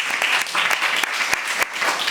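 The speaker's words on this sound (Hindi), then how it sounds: "ताली बजा दो एक बार सब लोग" An audience claps together during a spiritual course session, a dense, fairly loud burst of hand claps lasting about two seconds with a few sharper individual claps standing out.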